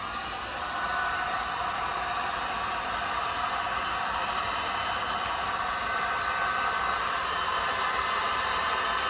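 A heat gun blowing hot air to soften car badge adhesive, a continuous, even whooshing roar held close and steady throughout with no talk.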